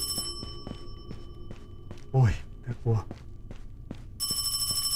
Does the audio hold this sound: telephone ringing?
yes